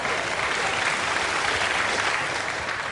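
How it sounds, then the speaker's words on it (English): A studio audience at a British comedy panel show breaks into sustained applause, a loud, even wash of many hands that holds steady throughout and tapers slightly at the end. "Which they clapped"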